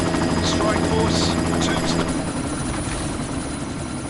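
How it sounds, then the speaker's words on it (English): A helicopter drones loudly and steadily nearby in Deus Ex, its rotor roar constant under intermittent bursts of voices. "You've got to stop that chopper"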